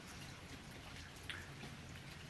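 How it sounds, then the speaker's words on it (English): Steady rain falling outside, a continuous soft hiss with faint patter and drips, distant and low in level with no one speaking. "it's raining outside right now"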